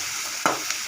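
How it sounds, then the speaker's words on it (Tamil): Mango pieces sautéing in sesame oil for an instant pickle give a steady sizzle, with one sharp stirring scrape midway and a faint tap after it, and no voices. "நல்லா நல்லெண்ணெயில் வதங்கணும்."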